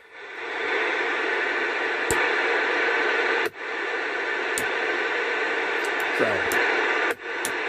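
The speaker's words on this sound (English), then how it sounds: "you can hear the change in the static." A CB radio gives off steady hissing static as its noise blanker filter is switched. The static is loud and continuous, broken by a few sharp clicks and brief dips, and a voice speaks a single word.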